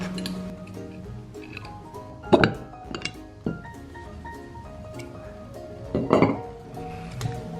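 A welded metal mould for plastic tiles being taken apart to free the cooled plastic piece, giving several irregular metallic clinks and clanks, a few sharper knocks standing out among quieter handling rattles.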